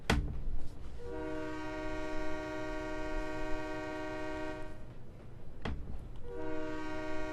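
Train horn sounding at a railroad crossing in the Trains Railway Simulator game, two long blasts over the rumble of the locomotive and cars, loud and near, with no talk.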